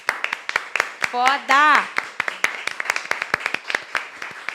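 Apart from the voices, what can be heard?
round of applause from production team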